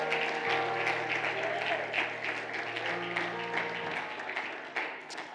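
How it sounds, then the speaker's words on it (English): A church congregation at a Sunday family worship service claps hands in praise while being seated. The applause is dense and continuous and fades a little near the end. "would you clap your hands and praise God while you're being seated?"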